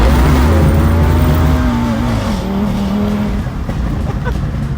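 Turbocharged 2.5-liter five-cylinder all-wheel-drive car engine revving loud and close, a steady droning tone rising and falling with throttle and a faint tire squeal, no talking.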